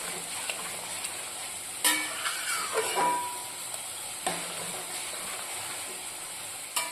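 Khichdi with ghee, green chillies and ground garam masala being stirred in a pan, making a soft steady sizzle with a few sharp scrapes of the spoon, close and without talk.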